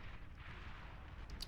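Artillery units in Beyond All Reason fire steadily into a geothermal, a continuous low rumble of distant booms with a brief brighter crack near the end.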